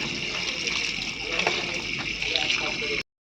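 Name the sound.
washing mushrooms in water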